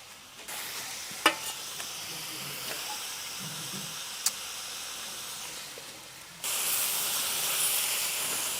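Meat stewing in a pot for bograch, a soft continuous bubbling hiss with a couple of sharp clinks, swelling into a brighter, louder steamy hiss near the end.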